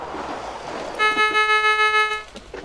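A taxi's car horn honks in a rapid series of loud, sharp toots lasting about a second, standing out over street background noise.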